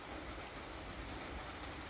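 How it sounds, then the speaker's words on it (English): Rain falls steadily outdoors, producing a soft, even hiss of drops with no break for the whole two seconds and no voices. "I think it's raining"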